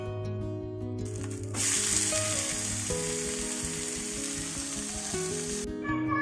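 Aval uttapam cooking under a lid in coconut oil on a pan gives a steady, bright sizzle that swells in and holds for several seconds over soft background music.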